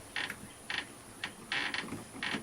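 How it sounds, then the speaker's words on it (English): Screws being unscrewed from an RV door lock handle, with short creaking, squeaky turns of the screwdriver in a handful of separate bursts, faint and close with no talk. "Okay, so I guess these two screws have to come out."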